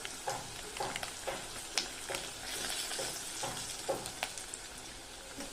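Spices, curry leaves, garlic and red masala frying in hot tempering oil for sambar, giving a soft continuous sizzle broken by repeated stirring scrapes and clinks in a steady rhythm, heard close up with no voices.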